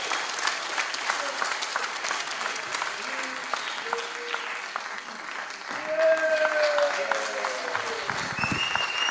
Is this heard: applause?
yes